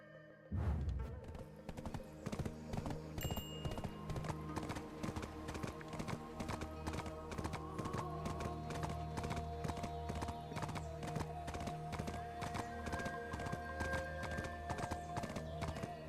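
Horse hooves gallop in the Black Desert video game, a fast steady clip-clop rhythm that starts abruptly and continues loudly and evenly throughout, set over a layered game soundtrack.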